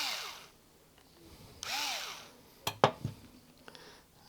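A power screwdriver with a No. 8 Torx bit backs out screws: two short whirring bursts with a falling pitch, followed by a few small clicks and clinks of metal, all close and quiet.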